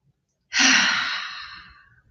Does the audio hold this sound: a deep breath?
yes